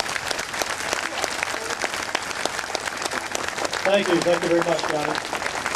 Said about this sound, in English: Let's bring him to the podium with a round of applause